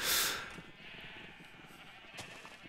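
Sheep bleating in the Minecraft video game, one loud bleat at the start fading into a soft ambient background with a faint second call near the end.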